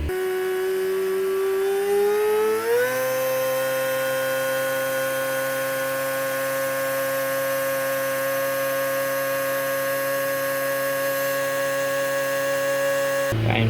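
A car engine holds a steady idle-to-rev hum that climbs briefly, then sits at about 2,500 RPM as a constant, even drone with no talking.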